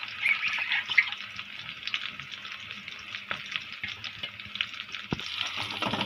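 Chopped garlic sizzles in hot oil in a home kitchen as it is stirred. A steady frying hiss runs under scattered scraping and clinking strokes from the stirring utensil.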